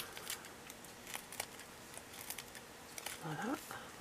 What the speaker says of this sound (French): je coupe s'il y a des excédents de scotch qui dépassent